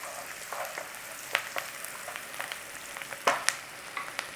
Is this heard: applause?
no